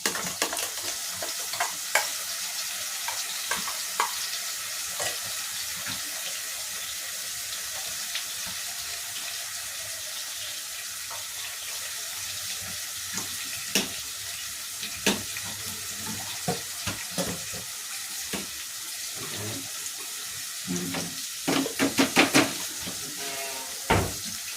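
Ground spice paste for chicken keema fries and sizzles in a hot pan, a steady loud hiss broken by frequent scraping and stirring clicks, close up with no talking.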